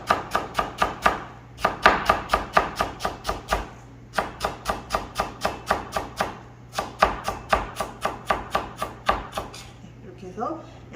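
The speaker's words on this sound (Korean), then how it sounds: "곱게 채 썰어야 비빔밥 먹기가 좋겠죠." A knife rapidly julienning cabbage and other vegetables into fine strips for bibimbap, a steady run of crisp, even chops on a cutting board in several bursts with brief pauses, close and clear with no talk.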